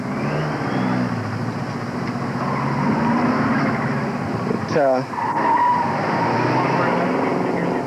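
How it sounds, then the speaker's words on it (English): A 1986 Ford Mustang on an autocross course, its engine a steady loud drone throughout with a brief dip near the middle, under continuous commentary. "Duncan Johnson from Manatic Tire, driving a 1986 Mustang"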